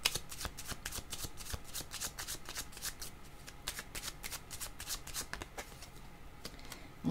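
Tarot cards are shuffled close by in a steady run of quick papery riffles and slaps lasting several seconds, with no voices.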